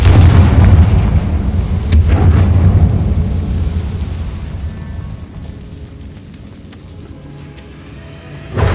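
A Confringo spell in Hogwarts Legacy bursts with a loud, deep boom right at the start, then rumbles and fades away slowly over several seconds.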